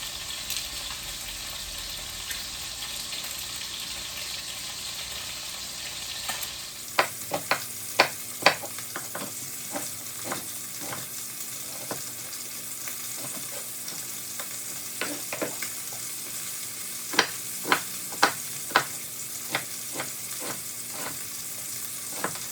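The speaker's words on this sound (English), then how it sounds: "I still want to get a really nice sear on the exterior of it" Chicken pieces searing in a hot pan for a chicken cacciatore, a steady loud sizzle running throughout with sharp clicks and scrapes of a utensil against the pan scattered across the second half; no one speaks.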